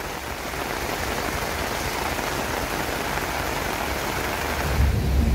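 Heavy rain drumming steadily on the roof of a sugar-mill lorry locomotive, heard from inside the cab while parked at a level crossing during a downpour; a dense, continuous hiss with a low rumble, no talking.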